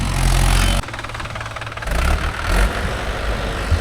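Mahindra 575 DI tractor engine running steadily at close range in farmland, a low continuous drone with a brief drop in level partway through, no talk.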